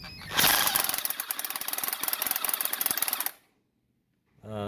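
A hammer drill with a chuck adapter starts loud and pounds rapidly into concrete for about three seconds, then winds down to silence before a brief restart.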